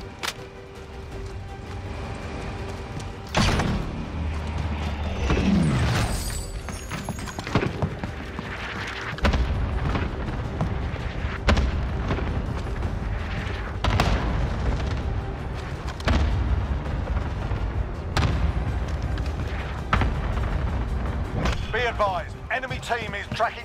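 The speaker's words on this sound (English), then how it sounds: "Receiving hostile fire." In Call of Duty Warzone with a PM63 machine pistol, heavy booms and sharp bursts hit at irregular intervals over a constant rumbling background, loud and fairly close, with in-game radio voice lines sounding between them.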